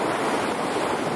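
Windy surf on the Pacific beach at Odawara, Kanagawa: a brief, dense roar of waves and gusting wind against the microphone, loud and unbroken.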